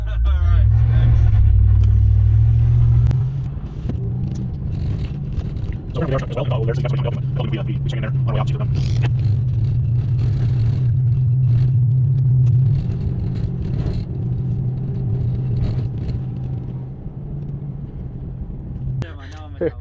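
A Chevrolet Tahoe drives along a snowy road, its engine a loud low rumble that swells early on and then holds steady while people talk inside the vehicle.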